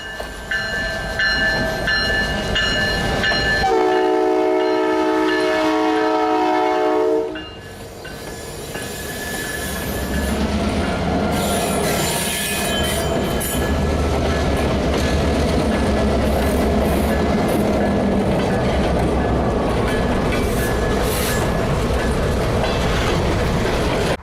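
An Iowa Interstate freight train hauled by SD38 locomotives rumbles past close by near Peoria Heights, wheels squealing in long high-pitched tones and clattering over the rails, with a brief horn-like tone early on.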